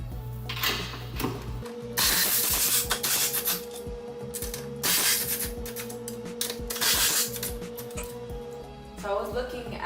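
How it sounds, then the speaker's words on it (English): Loosening the strut bolts on a 2018 Shelby GT350 during a lowering-spring install: ratcheting clicks and metallic wrench work come in bursts, fairly close, mixed with workshop clatter and a voice talking over parts of it. "So now I'm going to remove these 2 bolts from the strut and loosen this one up."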